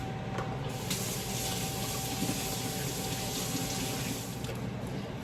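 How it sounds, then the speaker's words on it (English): Water runs steadily from a kitchen sink tap while hands are washed, a close, even splashing hiss that continues unbroken with no talk. "I'm going to wash my hands."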